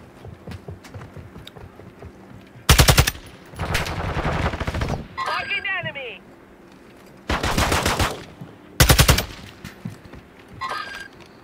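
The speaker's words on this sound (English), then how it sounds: "Taking effective fire!" Bursts of automatic gunfire in a Call of Duty DMZ match: several sharp, loud volleys of rapid shots, separated by quieter stretches of ambient noise, with a brief whistling sweep in the middle.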